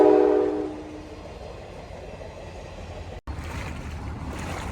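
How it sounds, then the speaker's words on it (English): A train passes near a flooded Alaskan cabin, opening with a brief tonal blare that gives way to a steady, broad rumbling roar. "Oh, of course, here comes the train."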